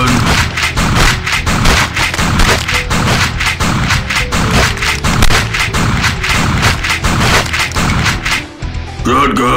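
Rapid, repeated shotgun blasts in the arcade zombie shooter Age of Zombies, sharp loud reports firing in a steady rhythm over a busy layer of game sounds.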